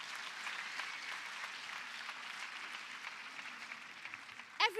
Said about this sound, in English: I want you to clap for our counselors and teachers.